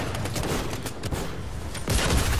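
Rapid SMG fire from a Fortnite match, a dense, loud burst of overlapping shots that stays steady and swells slightly toward the end.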